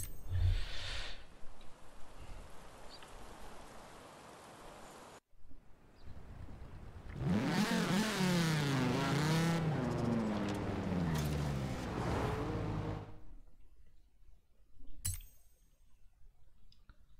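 Audi Quattro driving in Forza Horizon 4, its engine rising and falling through rapid gear changes in a loud, steady roar that lasts several seconds, followed by quieter game noise with no talking.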